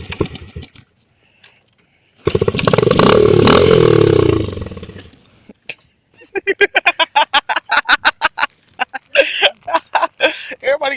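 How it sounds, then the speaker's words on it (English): A dirt bike engine running as it is ridden, a loud sustained roar early, then a rapid series of sharp popping revs and bursts toward the end, close by, with a voice talking in the mix. "Everybody came outside just look at you riding the dirt bike."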